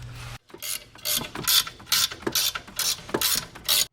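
A ratchet wrench backing out a 17mm shock tower bolt on a Land Rover, giving a series of quick, close clicking bursts in a steady back-and-forth rhythm after a brief pause.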